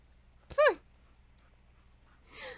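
A single short dog whine or yelp from the dog companion in the video game Dragon Age: Origins, followed by faint game ambience and a soft noise near the end; no talking over it.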